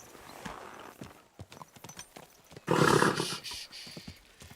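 Horse hooves clip-clop in a steady trot in the game Kingdom Come Deliverance 2, then a loud whinny rises over them before the hoofbeats carry on, with no talk.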